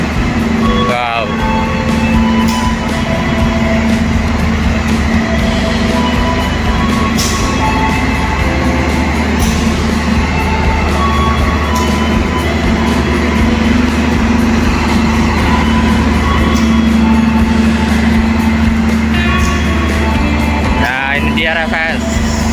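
Logawa New Generation passenger train heard from inside a carriage while running, a loud steady rumble and hum of wheels and car body throughout, with brief squeals and a short talking voice near the end.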